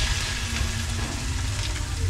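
Food frying in oil, a Filipino-style home cooking session, with a steady broadband sizzle and crackle throughout, fairly close and continuous, with a low background hum beneath it.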